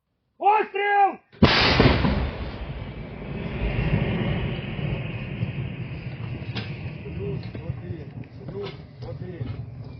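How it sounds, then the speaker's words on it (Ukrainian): A brief voice, then a single loud, close blast from an M109A6 Paladin self-propelled howitzer that rolls into a long, low rumbling echo fading into the distance. "доволі потужна зброя, яка б'є до 15 кілометрів осколковими і касетними снарядами"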